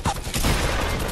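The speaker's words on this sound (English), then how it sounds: "people are shooting from over there now too" Rapid gunfire from other players in Fortnite Battle Royale, a loud continuous burst of shots packed tightly together for about a second with no talk over it.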